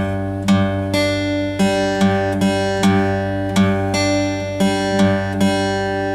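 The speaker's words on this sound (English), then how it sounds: "So you're going to pluck the 6th string downwards twice, and then you're going to pluck the 2nd string upwards" Close acoustic guitar plays a song's intro at normal pace, bass-string and upper-string plucks alternating in a steady repeating pattern of about a dozen ringing notes, no voice over it.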